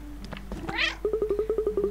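A cat meows in the game Cat Quest, one drawn-out close meow followed by a quick run of short rhythmic chirping mews, loud and clear with no talking.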